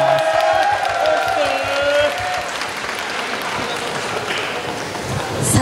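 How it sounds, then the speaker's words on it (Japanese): A concert audience applauds a host at a mini live and talk show, dense steady clapping close and loud from start to finish, with a voice briefly audible in the opening seconds. "薄に大きな拍手"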